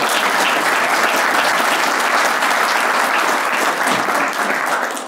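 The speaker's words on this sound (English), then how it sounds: "A round of applause for Annette" An audience at an introductory talk in Provo gives a round of applause, a full, sustained clatter of many hands that holds steady and tapers slightly at the end.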